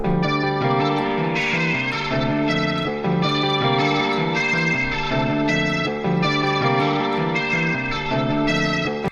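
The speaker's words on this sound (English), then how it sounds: "Might be a little crazy on the distortion." Heavily distorted, detuned electric guitar from a remake chugs in a thick, saturated wall of sound with sustained chords and steady rhythmic accents throughout.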